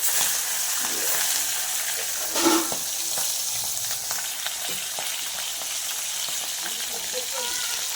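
Fish frying in a pan in a village home kitchen sizzles steadily and softly at close range, with faint stirring clatter and a brief louder bump partway through.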